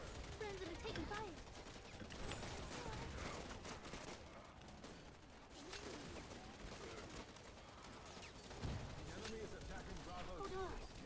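Gunfire in the video game Wild Assault: continuous dense rattling bursts of automatic weapons and a thick layer of battle noise throughout, with voices talking over it.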